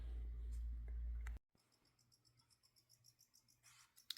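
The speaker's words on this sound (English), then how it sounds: "You can hear the crickets going." Crickets chirp in a quiet tarantula room at midnight, a faint regular pulsing trill that follows a brief loud handling noise at the start.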